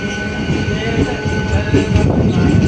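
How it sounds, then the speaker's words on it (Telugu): A DEMU passenger train running on a morning journey between Karimnagar and Manchiryal, with a steady, loud rumble of wheels and carriage noise throughout, no talk over it. "ఇది డెమో ట్రైన్ జర్నీ"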